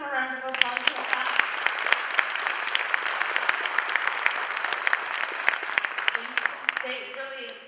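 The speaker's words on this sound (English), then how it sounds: "Can we just give them a round of applause for that?" An audience claps together after a dance drama performance at a school event, a dense sustained burst of applause with a voice speaking near the start and again as the clapping fades at the end.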